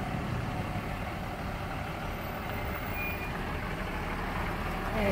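A truck towing a big trailer maneuvers out of a tight spot, its engine idling and rumbling steadily at moderate distance, with a faint high reversing beep, no talk.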